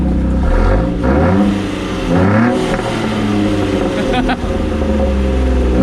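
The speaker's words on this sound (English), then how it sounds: "you can hear it's got a nice deep little growl to it" A Jeep's V6 engine with a new exhaust revs repeatedly with a deep, throaty exhaust growl, rising and falling in pitch, loud and close.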